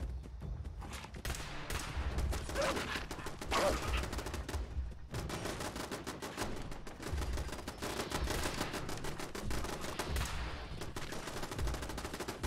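Turrets pour sustained automatic gunfire in Fallout 76, a dense rapid rattle of shots running almost without pause and staying loud and close throughout.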